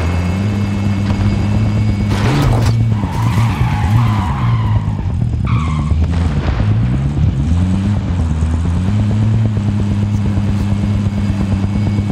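A car driving hard in Call of Duty Warzone, with a loud steady engine roar and repeated tyre skids and squeals over the whole stretch.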